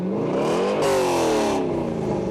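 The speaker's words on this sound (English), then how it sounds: "With an attention-grabbing exhaust note" A Dick Guldstrand special Corvette tuned to 500 horsepower revs hard, its exhaust note climbing in pitch and then easing back down, loud and close with no other sound.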